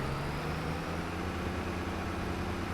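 A tractor engine in the Farming Simulator 22 video game drones steadily with a low, even hum, alone and without talk.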